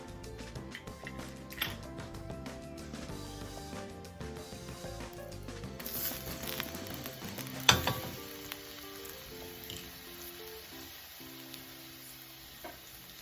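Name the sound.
minced garlic sizzling in pan for lasagna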